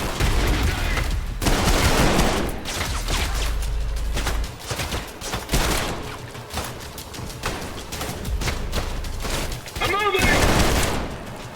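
Rapid bursts of gunfire from an SMG and other weapons in the shooter game Trepang 2, loud and dense with sustained automatic fire across most of the stretch, a short lull mid-way and a final heavy burst near the end.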